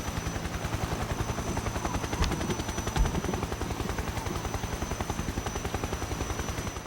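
A helicopter in Metal Gear Solid 3: Snake Eater whirs steadily throughout at close range. Its loud rhythmic rotor thumping runs unbroken, with a couple of sharp impact-like bangs mixed in.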